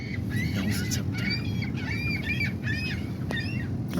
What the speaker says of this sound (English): The seagulls are crazy.